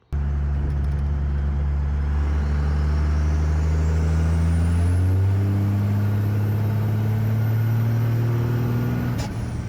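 Cummins diesel truck fitted with an adjustable boost elbow driving, its engine a loud, steady low drone that climbs in pitch as it accelerates and shifts, with a rising turbo whine above and no talking.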